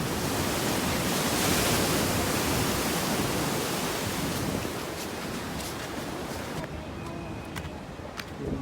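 Rough sea waves pound the shore at a beach in Colombo, a dense, continuous roar of surf and wind that stays loud and steady throughout, easing slightly toward the end.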